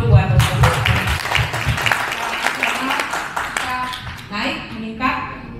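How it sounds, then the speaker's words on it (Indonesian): Audience clapping during a Century21 Prioritas corporate year-end event, a dense wash of applause running throughout with a presenter's voice talking over it. "Bapak Ibu tepuk tangan dulu buat"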